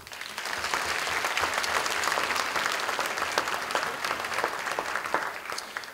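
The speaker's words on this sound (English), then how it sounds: "Another round of applause." A county band concert audience in Wayne County, West Virginia claps in a full, sustained round of many hands that rises quickly and holds through a few seconds before thinning at the end.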